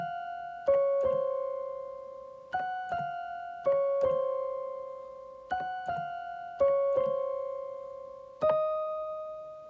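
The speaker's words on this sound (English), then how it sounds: "So this pluck is made with a little patch called Puddle." A Yamaha DX synthesizer pluck patch called Puddle plays short, bright plucked notes in a sparse repeating melody, each note decaying quickly, alone and clear.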